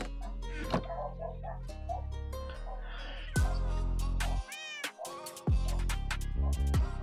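Cat meows ring out during a survival video game session, several drawn-out, pitch-bending calls over steady game music and ticking effects.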